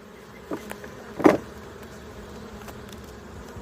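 Honey bees during a summer hive inspection, while a frame is handled and bees are shaken into the hive before a queen is released, make a few short, sharp buzzing bursts over a low, quiet background hum.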